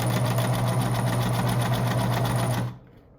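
A sewing machine runs a basic stitch through silk fabric for a face mask, a fast rhythmic mechanical whirr with steady pulsing that stops abruptly near the end.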